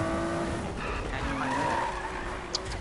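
Tires skid and squeal continuously as a car drifts in the Need for Speed racing game, with engine noise beneath the sustained screech and no talking.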